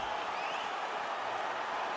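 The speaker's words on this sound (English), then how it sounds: "the crowd voicing its appreciation after that round" Crowd applause and cheering in a fight arena after a middleweight MMA round in the UFC 2026 video game, a steady, dense roar of clapping that holds at an even level throughout.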